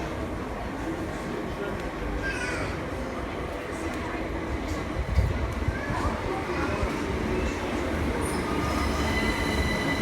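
A London Underground train rolls into Tottenham Hale Station with rumbling wheels and squealing brakes, a steady low roar that swells slightly as it slows.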